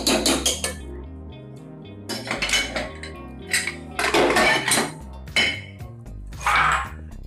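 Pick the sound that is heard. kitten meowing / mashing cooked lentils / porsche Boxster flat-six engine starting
mashing cooked lentils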